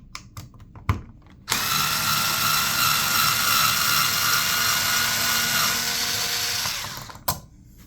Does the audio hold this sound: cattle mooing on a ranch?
no